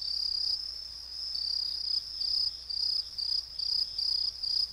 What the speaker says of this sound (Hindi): ये झिंगुरों की आवाज है